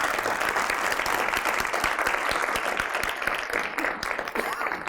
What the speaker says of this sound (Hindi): एक बार जोरदार तालियों से।